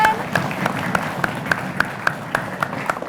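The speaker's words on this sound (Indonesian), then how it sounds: "Kita berikan tepuk tangan" A small group claps in a school quiz competition hall. The claps come slow and regular, roughly three per second, fairly near, over a murmur of background voices.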